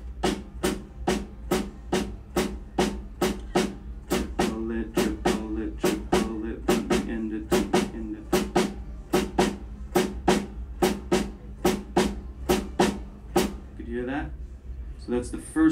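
Evenly spaced drum strikes repeat at a brisk, steady pulse, close up, with faint voiced tones underneath some of the hits.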